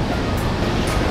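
Broadband surf of ocean waves on Sodong beach, a black iron-sand shore, on an overcast morning, a steady unbroken wash with faint wind, no voices.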